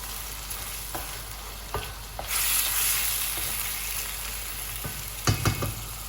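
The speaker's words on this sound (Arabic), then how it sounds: "نخلي هذيك الطوماطيش تقلى مليح مع هذاك البصل" Tomatoes fry with onion in a pan, giving a steady close sizzle with stirring, scraping utensil clatter and a few sharp clinks, with no voices.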